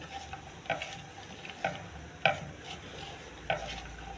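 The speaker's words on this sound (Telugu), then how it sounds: "పెసరట్టు కావాల్సినవి అల్లము, ఉల్లిపాయ, జీలకర్ర, కొత్తిమీర అండి. బాగా కలుపుకోవాలి." A spoon stirs pesarattu batter of ground lentils with ginger, onion, cumin and coriander in a bowl, making four or five distinct scraping, clacking strokes at regular intervals, close and fairly soft.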